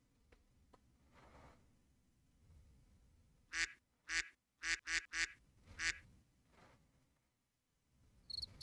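Duck quacks ring out in a burst of about six loud, sharp calls spaced irregularly across a few seconds, over a faint background murmur and low hum, with a brief higher squeak at the end.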